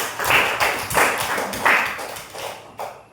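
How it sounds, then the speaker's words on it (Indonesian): Classroom applause from schoolchildren in a lesson, a few uneven bursts of close clapping and tapping that swell and fade over about three seconds, loud and near. "tepuk tangan untuk kita semua"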